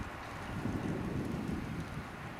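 Steady, blustery wind roars across the microphone, a dense low rumble with no talking, swelling slightly in the middle.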